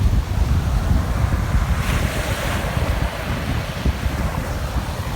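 On a windy Biloxi beach in Mississippi, surf washes in under loud, gusty wind buffeting the microphone, a constant rough roar with no voices.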